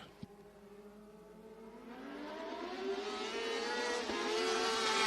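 California Lightning sprint race cars roar at a Santa Maria season-opener heat race, engines climbing steadily in pitch and loudness as the pack accelerates off the start, a sharp click near the beginning and a dense, rising whine building over five seconds.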